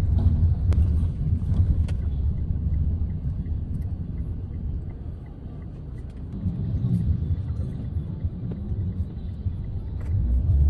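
A car heads out onto a highway, with steady low engine and road rumble throughout at a constant moderate level, plus some wind buffeting on the microphone.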